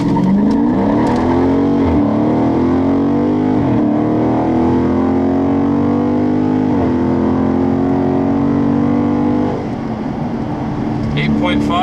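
A Dodge Charger Scat Pack with an 8-speed automatic in full auto mode accelerates hard. Its close, loud engine roar climbs in pitch and drops at each upshift, with traction control on and sport mode engaged.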